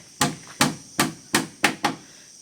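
Sharp, evenly spaced knocks as a door is worked on inside a house, five or six close, loud impacts about half a second apart with no voices.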